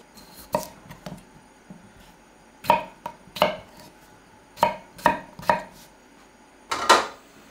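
A knife dices potatoes on a wooden board in short bursts of crisp, close strikes, some in quick runs, with pauses between.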